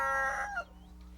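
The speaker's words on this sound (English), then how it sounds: "The rooster is a roistering hoodlum. His battle cry is cock-a-doodlum." A rooster crows a single cock-a-doodle-doo, loud and close, rising and then trailing off into a quieter tail, with no talk over it.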